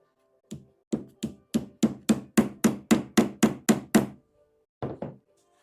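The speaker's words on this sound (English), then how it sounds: "Driving these tacks is a difficult thing to do" A hammer drives tacks into wood while building a traditional Shaker box, eleven crisp evenly spaced knocks in a steady rhythm, then a pause and one more pair of blows, close and loud with no talk.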